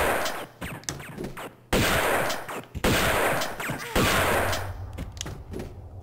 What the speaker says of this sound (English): Right, I need a shotgun for this.